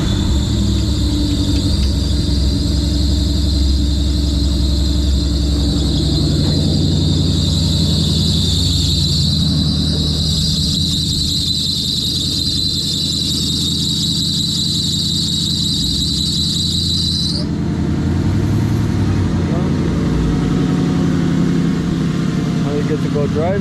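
A 1994-2004 Ford Mustang engine with an electrical fault, primed and then running with a loud, rough roar and a high squealing whine that cuts off partway through, close and constant.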